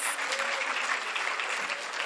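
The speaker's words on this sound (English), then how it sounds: "Let's give them another round of applause." A school audience at a national pinning ceremony claps in a dense, steady burst of applause after a pop band's performance, filling the short stretch evenly from start to end.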